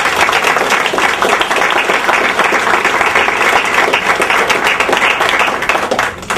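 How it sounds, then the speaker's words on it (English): Loud, sustained applause from a large crowd, dense steady clapping that carries on for several seconds before starting to fade. "And I'd like for you to give a hearty hand of applause to Sister Carolyn Edwards."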